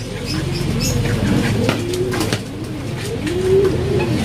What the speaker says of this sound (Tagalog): Ang dami yung nagdatingan na ibon.